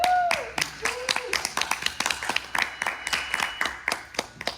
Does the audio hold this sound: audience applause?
yes